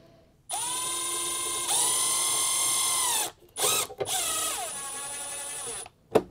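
A power drill drives small-diameter screws into a panel while a Lippert electric leveling system is installed on a 2022 Forest River travel trailer; its loud, close whine rises and falls in several bursts separated by brief pauses.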